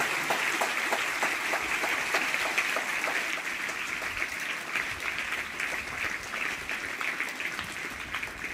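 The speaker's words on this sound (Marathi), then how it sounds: "जोरदार टाळ्या वाजवायच्या." Students at a school felicitation event applaud loudly, a dense, steady crowd of clapping that keeps going throughout with little variation.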